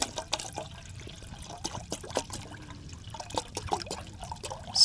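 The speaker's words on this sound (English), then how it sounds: "Filtering more water." Water being filtered at a backpacking camp, heard as a soft, steady trickle and dribble with irregular small splashes and clicks, fairly quiet and close, with no voices.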